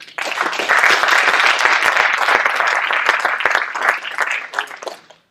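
An audience at a maker show talk in Zaragoza breaks into sustained applause, a dense crowd of clapping that swells quickly, holds for several seconds and then fades out.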